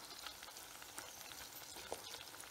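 Hot oil bubbles and sizzles steadily in a pot with horseradish in it, a faint, continuous crackling with small pops scattered throughout and no talking.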